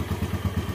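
Worn clutch area of a Yamaha Jupiter Z1 motorcycle engine, with primary and secondary gear play giving a rapid, regular rattling knock over a low idling thrum, heard up close.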